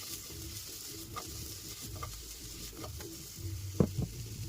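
Potatoes sizzle as they fry in an open pan over a high flame, a constant close crackle with a few louder stirring scrapes toward the end.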